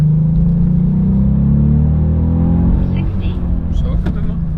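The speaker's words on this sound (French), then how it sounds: "T'entends moteur 3 cylindres" Three-cylinder engine in a small hatchback city car with GTI badging and Stage 3 tuning, rumbling loud and close with a steady throaty tone that shifts and settles partway through.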